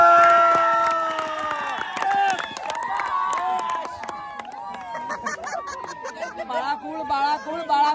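Excited crowd at a local premier league cricket match cheers and shouts loudly in a continuous roar, with whistles and many overlapping voices close by.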